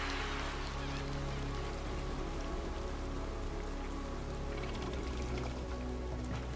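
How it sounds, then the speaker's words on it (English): Steady rain effects in the video game World of Goo 2 patter continuously at moderate level, a dense hiss of drops with a low hum beneath and no talk. "I love all the little rain effects and all that stuff,"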